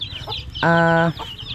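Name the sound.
chickens (chicks) clucking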